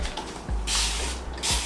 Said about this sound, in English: Just spraying down the hair